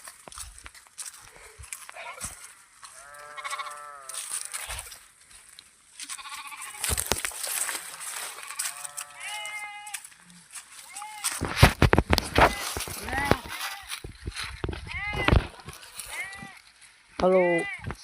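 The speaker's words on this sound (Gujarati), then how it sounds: "આ રહ્યા ઢોર." Goats and sheep bleat again and again in a farm field, some calls close and others farther off, with people talking and rustling movement throughout.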